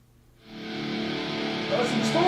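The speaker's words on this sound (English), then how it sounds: "That's some distortion." A distorted electric guitar played through an effects unit swells in after a brief quiet start and then rings on as a sustained, buzzing, gritty tone.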